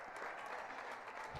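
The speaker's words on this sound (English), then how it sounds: "They get a round of applause from the home fans here." Home fans applaud at the buzzer after a women's A Nationals hockey game between Calgary United and Saskatoon, a steady wash of clapping from a faint, distant arena crowd throughout.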